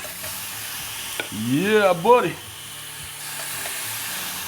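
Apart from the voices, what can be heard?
shrimp skewers sizzling on grill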